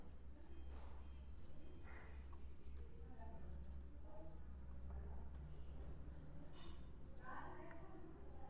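Chalk or marker writing on a board in a classroom, faint scratchy strokes in short bursts over a low steady hum, with soft background voice activity.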